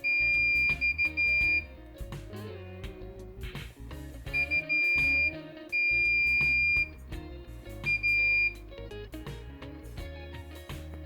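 A multimeter in continuity mode beeps while testing shorted capacitors inside a Samsung TV, giving several steady tones of varying length with pauses between them, heard close over faint handling clicks and no speech.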